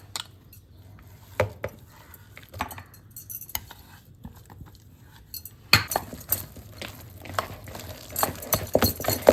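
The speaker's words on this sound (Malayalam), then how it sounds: "നന്നായിട്ട് ഇതുപോലെ അടിച്ചടിച്ച് മിക്സ് ചെയ്യണം." Urad dal batter being beaten and mixed by hand with crushed shallots, chilli and ginger, giving soft irregular slaps and stirring knocks close by, growing busier and louder in the second half.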